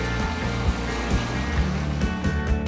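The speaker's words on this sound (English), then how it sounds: "The water is just boiling" Water boils in a kadai with chicken on an induction cooker, a steady close bubbling hiss over a low, constant hum, with no talking.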